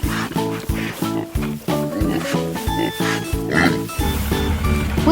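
Pigs on a farm grunt and oink in quick, repeated bursts while eating carrots and apples, the close snorting calls coming in an irregular rhythm.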